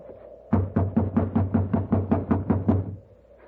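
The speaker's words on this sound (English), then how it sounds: "You just have to keep knocking till he wakes up." Steady run of about a dozen loud, close knocks on a locked wooden door, evenly paced, standing alone against a quiet room.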